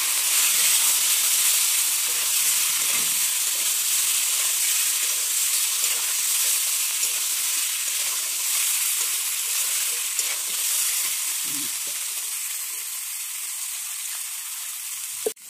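Parshe fish and two chillies fry in a pan after cumin tempering, a loud, constant close sizzle and hiss that eases slightly toward the end, with faint stirring bumps.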